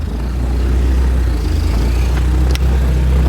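A 1954 Sunbeam Talbot Alpine roadster engine runs steadily up close as the car is put into reverse, a low rumbling idle with a brief clunk near the end.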